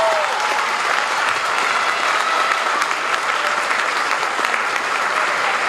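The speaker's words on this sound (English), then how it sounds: "Can we have a round of applause" Audience applauding at a middle school band winter concert, steady dense clapping filling the hall throughout without a break.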